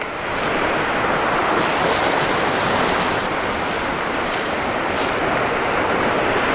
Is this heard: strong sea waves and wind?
yes